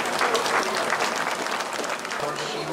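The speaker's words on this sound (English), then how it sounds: "Can we get one more round of applause for those guys?" An audience claps for exhibitors in the ring at a junior livestock show, with dense, loud applause throughout and a voice briefly audible over it near the end.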